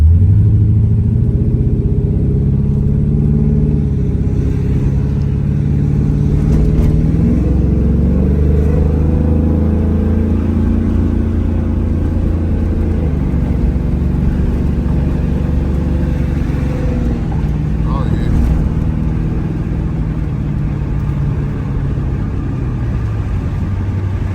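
A Trans Am's cammed LS V8 rumbles deep and loud close by, its pitch rising and falling as it revs through a new, throaty exhaust, with no talking.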